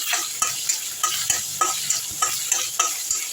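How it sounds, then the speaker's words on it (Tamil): Ginger garlic paste and chicken sauté in hot oil with a steady sizzle, while a spoon scrapes and stirs the pan in regular strokes, close up and with no voices. "இது நல்லா சிம்மில் வச்சா வதக்கிங்க."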